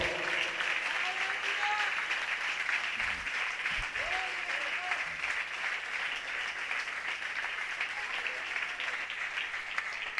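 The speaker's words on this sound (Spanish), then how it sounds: "Dale un fuerte aplauso al Señor." A church congregation applauds the Lord in a long, even roll of clapping, quiet and distant, with faint voices and brief murmurs under it throughout.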